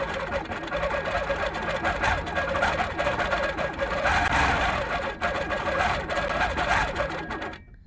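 An HQ Capri quilting machine stitching steadily at about ten stitches per inch, a dense continuous mechanical whir with rapid needle chatter, close and fairly loud throughout before stopping at the end.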